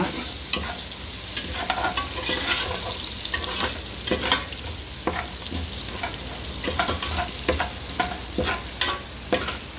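Curry leaves and mint crackle in hot tempering oil for a wedding-style tomato bath, a loud, close, continuous sizzle broken by repeated scraping stirs and spits.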